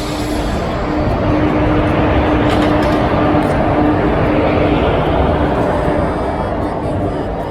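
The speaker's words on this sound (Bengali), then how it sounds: "গাড়ি ঢুকে গেছে।" The East Coast Express, train 18045, rolls into Santragachi station with a loud, dense, continuous rumble and a steady low hum, heard close up throughout.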